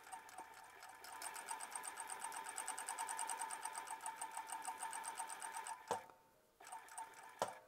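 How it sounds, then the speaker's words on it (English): A sewing machine stitches a shirt seam in a steady, fast mechanical rattle that runs for several seconds, close by. It stops briefly, then restarts in short bursts. "We're gonna start sewing"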